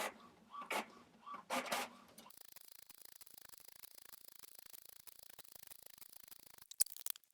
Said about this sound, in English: I have to sit here and watch my printer